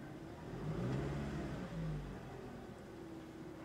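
A car engine revs up briefly, falls back, then rises again, fairly quiet and close, with a low steady hum between revs.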